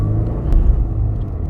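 Toyota GR86 racing on Fuji Speedway during a GR86/BRZ Cup session, its engine a steady loud rumble from inside the car with no talk.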